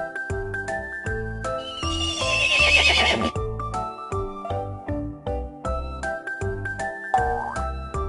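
A horse in a children's cartoon about vehicles neighs loudly in a long, shrill whinny while hooves clip-clop in a steady rhythm with jingling tack, with no talking.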